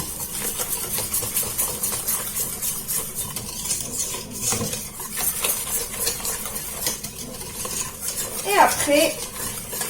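A spoon mixes dessert ingredients with biscuit in a bowl, cold, giving continuous scraping and clinking strokes that stay close and fairly loud. A short spoken French phrase comes in near the end.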